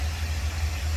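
The 312 V8 of a 1957 Ford Thunderbird idles with its hood up, a steady, deep, close rumble that runs alone without any break.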